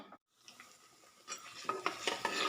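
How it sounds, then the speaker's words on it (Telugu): Tempering seeds dropped into hot oil for a Nalleru stem chutney, opening with a brief quiet gap, then rising crackles and sharp pops close by that grow more frequent and louder. "తాలింపు గింజలు వేసాను"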